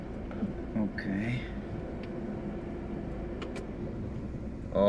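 Low steady idle of a BMW 315 E21 engine with the air conditioning switched on, a constant hum with a few brief clicks and a faint voice partway through.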